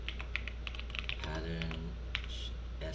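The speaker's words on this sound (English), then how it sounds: "I'm gonna type in UV" Keys clatter on a computer keyboard in quick, light taps, faint and close, over a steady low hum while a person talks quietly.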